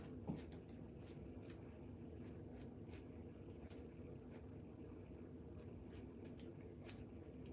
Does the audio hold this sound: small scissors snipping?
yes